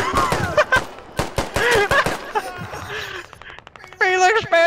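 Gunfire in a video game bursts in sharp, rapid cracks between excited shouting, with people talking over much of it before a louder tonal game sound near the end.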